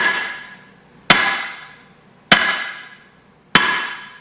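Three hammer-fist strikes land on a brick for hand conditioning, each a sharp, loud impact spaced about a second apart, with a ringing tail that fades before the next blow.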